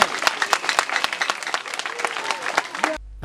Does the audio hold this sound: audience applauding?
yes